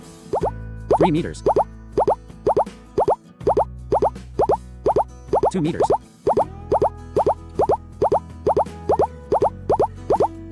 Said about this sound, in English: If you move towards the code, the beep sound will get quicker as you get closer to it